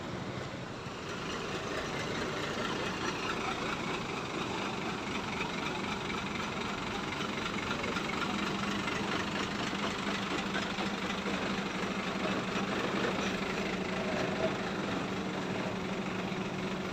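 A Hino RN285 bus idles steadily throughout, a continuous low engine rumble with a faint hum, close and unbroken for the whole stretch, with no talking.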